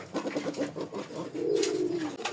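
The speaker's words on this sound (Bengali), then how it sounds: "এই জায়গা আছে এক জোড়া আপনার বুকসাদা কবুতর" A pair of white-breasted pigeons coo nearby in a steady rhythmic series of soft, throaty calls, close and clear with no talking.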